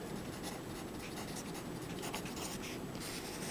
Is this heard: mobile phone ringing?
no